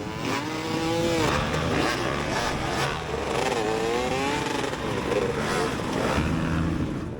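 Dirt bike engines revving and roaring close by during a Mideast 2024 Round 4 Hillbilly Smash off-road race on a slick track, with a steady, loud drone and wavering pitch as throttles rise and fall throughout.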